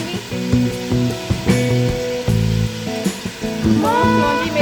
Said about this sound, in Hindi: हल्का सा फ्राई कर लूँगी।